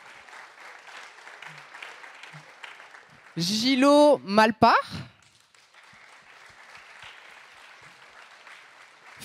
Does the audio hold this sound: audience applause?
yes